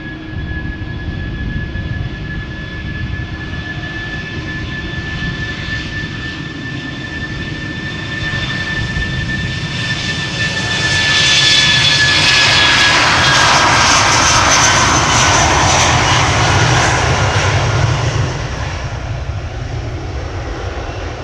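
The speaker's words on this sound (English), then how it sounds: "BA flight 429 to London Heathrow A319" A 20-year-old British Airways Airbus A319 takes off from Amsterdam Schiphol, jet engines roaring steadily up close with a high whine, swelling louder as it powers past, then easing slightly.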